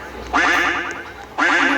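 Two loud, close duck quacks from a video game, each a raspy run of rapid nasal honks, separated by a short pause.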